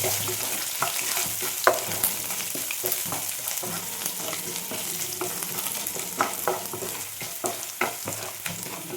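Garlic and ginger sizzle in a hot pan for coconut rice, a steady close frying hiss broken by frequent scraping and clinking stirring taps.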